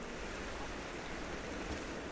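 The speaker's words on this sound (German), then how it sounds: "Da unten ist Wasser. Klingt nach ganz schön viel" A constant, low rushing wash of water down a well in the video game Rise of the Tomb Raider, like a large body of water moving below, faint and unbroken.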